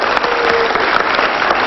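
An audience at a televised music show gives loud, dense applause for a vocal group, a short burst of clapping filling the hall.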